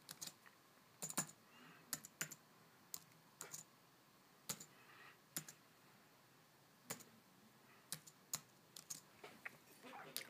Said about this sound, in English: I typed my password in wrong